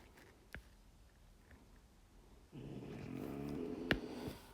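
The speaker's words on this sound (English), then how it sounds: "There's my dog snoring." A dog snores indoors, a low rumbling drone that starts partway through and continues steadily, faint against a quiet room with a few small clicks.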